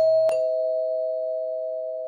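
A cartoon doorbell gives a single ding-dong, a short strike and then a long sustained clear tone that slowly fades, with nothing else heard.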